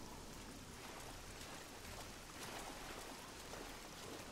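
Steady rain falls in the video game Oblivion as a dense, even wash of hiss that stays constant throughout, with no voices.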